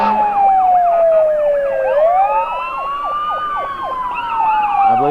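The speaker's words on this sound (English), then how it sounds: "I believe this year Rouse's Point will not be allowing these sirens to be blown." Emergency vehicle sirens at a Fourth of July-season parade in Malone, wailing loudly and continuously with overlapping rising and falling tones, several sirens sounding together close by with no talk.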